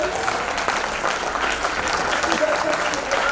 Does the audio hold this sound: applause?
yes